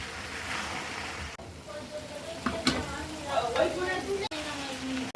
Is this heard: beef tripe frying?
yes